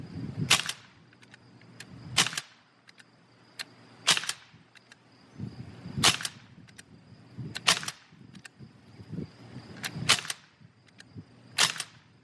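A Sig MCX air rifle fires Gamo pellets in seven sharp, evenly spaced shots about two seconds apart, each a crisp crack with a brief thud after it, heard alone with a faint steady hum behind.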